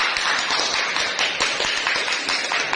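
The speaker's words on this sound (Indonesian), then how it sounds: "kita tepuk tangan bersama-sama" Group of classmates clapping together in a school classroom, a dense, steady patter of hand claps filling the whole moment at moderate loudness.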